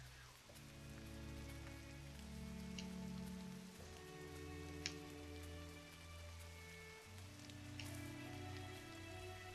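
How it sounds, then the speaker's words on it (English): Steady rain in the game Gris, a soft continuous patter of drops on surfaces with occasional brighter drip ticks, layered over low sustained musical drones throughout. "rain's falling off of the tree there, even though it doesn't seem to be hitting anything"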